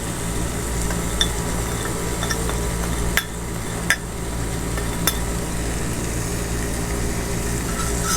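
Capsicum and sweet corn fry in a pan with a steady sizzle, Indian-style macaroni preparation, with occasional sharp clicks of a spoon stirring against the pan, close and continuous.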